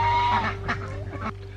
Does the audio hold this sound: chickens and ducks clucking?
yes